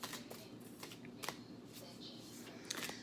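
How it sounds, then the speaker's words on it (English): A tarot deck being shuffled by hand, heard as soft, papery riffling and rustling bursts that recur irregularly over a few seconds, fairly quiet and close. "Don't make me sit here shuffling for a half hour."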